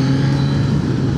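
Steady engine drone of a Suzuki GSX-S 1000GT sport-touring motorcycle being ridden, a loud, constant hum with no change in pitch across the short stretch.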